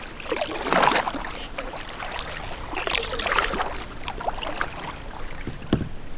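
Kayak paddle strokes splash and swirl in the water on a sunset paddle at Long Sault, rhythmic dipping sounds close by over steady wind and water.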